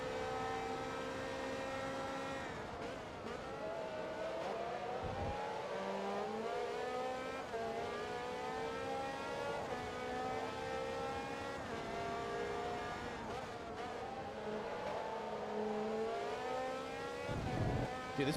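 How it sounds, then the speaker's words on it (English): A Porsche race car in Forza Motorsport 2 screams at high revs, its engine pitch climbing and dropping through repeated gear changes, steady and fairly quiet with no talk. "Dude, this Porsche's flying."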